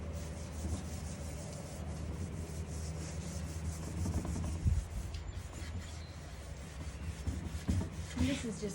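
Steel wool rubs across a wood surface to strip away old finish, a continuous close scratchy scrubbing with slight surges, over a low background hum.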